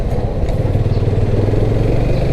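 A motorcycle engine runs steadily and close by with a low, throbbing mid-range note and a faint rattly clatter, holding an even level throughout with no one speaking.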